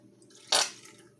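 A kitchen baster sucks up very dark braising liquid from oven-braised beef ribs, giving one short, soft slurping gulp of liquid that rises suddenly and trails off over quiet room noise.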